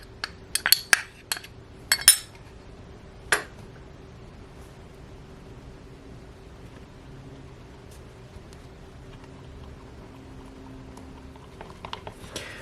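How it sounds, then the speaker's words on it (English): A utensil works through einkorn crepe batter in a bowl, giving a few quick clinks and scrapes near the start and again around the middle, then settling into faint, soft stirring that is mostly quiet. "I just want to keep stirring this until there are no lumps at all."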